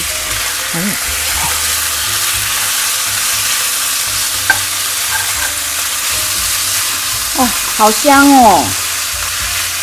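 Pork frying in a wok for a stir-fry with Chinese kale, a steady broadband sizzle running through the whole stretch while people talk over it now and then.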